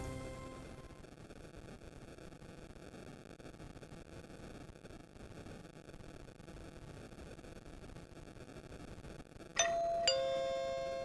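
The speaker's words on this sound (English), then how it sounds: "Ah, the sound of my doorbell." After a long stretch of faint hiss, a doorbell chimes near the end, two clear ringing tones that linger as they fade.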